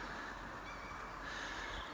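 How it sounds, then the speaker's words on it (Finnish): Birds call outdoors on a sunny lakeshore by a camp centre in Vähäkyrö, Finland, a steady faint chorus over light wind noise with no talking. "Linnut laulaa"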